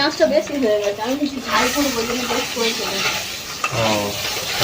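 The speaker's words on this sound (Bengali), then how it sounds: "এখন ডিমটা খুব সুন্দরভাবে ভাজছে" An egg fries in a pan, a steady soft sizzle with some stirring under continuous nearby talking.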